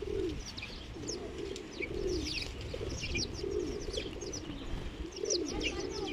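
Small wild birds chirp in bursts over steady low cooing, as sparrows, tits and pigeons gather to be fed sunflower seeds outdoors on a winter day.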